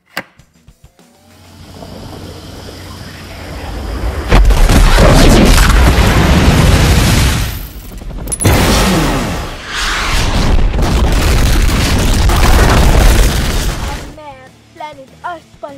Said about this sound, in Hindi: तुम अपनी स्पेस शिप से अर्थ पर बमबारी करो।